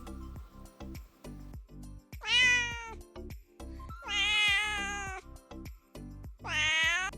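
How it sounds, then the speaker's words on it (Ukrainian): A cat meows three times, drawn-out and tonal, over a steady rhythmic background thumping like music. "це кішка."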